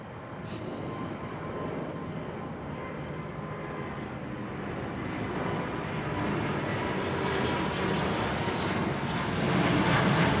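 A jet with geared turbofan engines at Heathrow on runway 09R gives a steady, broad roar that slowly swells in loudness over about ten seconds, with a brief high whine near the start.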